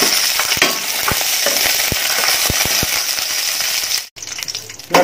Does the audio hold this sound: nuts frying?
yes